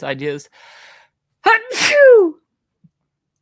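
A single sharp human sneeze bursts out loud and close after a brief pause in speech, with a short breathy intake just before it; a voice is talking at the start.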